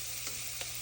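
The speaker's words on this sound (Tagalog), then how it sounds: "Siyempre, haluin lang natin siya ng bahayag." Breakfast food being stirred in a frying pan, with a steady sizzle and two soft scraping strokes of the utensil, no talk over it.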